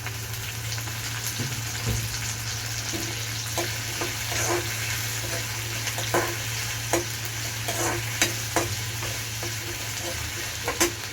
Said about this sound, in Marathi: या स्टेजला आपण टमॅटो टाकून घेऊया.